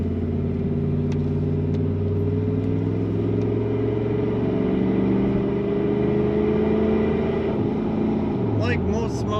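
A 1995 Chevrolet Tahoe LS 4x4 with a small block V8 drives along, its engine giving a steady, even low drone with a faint rising whine near the end.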